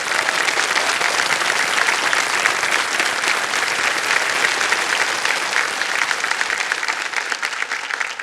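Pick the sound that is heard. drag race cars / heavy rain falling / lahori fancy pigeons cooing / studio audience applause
studio audience applause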